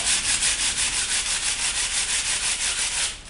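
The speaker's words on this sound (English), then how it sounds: "while you're sanding the shaft, you know, it gets heated up." Steady rhythmic rubbing of sandpaper along a wooden shaft, close and fairly loud, with even back-and-forth strokes and no talking.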